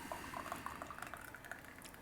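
Mayapple jelly is poured into a jar: a faint, thick liquid trickle with small wet plops and drips, close by and alone.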